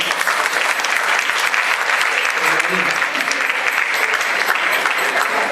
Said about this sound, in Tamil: அதான் அவருக்கு ஒரு பலத்த கரகோஷம் கொடுக்கணும்.